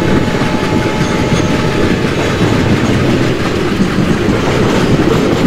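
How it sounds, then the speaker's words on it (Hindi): Passenger train in the Open Rails simulator, an Indian Railways Bhusaval–Katni run, rolls with a steady loud rumble and continuous wheel clatter, no voices. "पैसेंजर ट्रेन ही चला रहे हैं यार"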